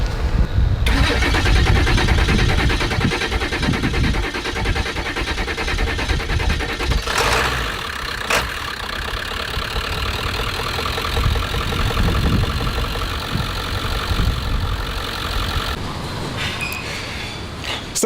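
A 2001 Ford Powerstroke 7.3 diesel truck engine cranks and fires loudly up close, then settles into a steady, clattering diesel idle with sharp mechanical knocks.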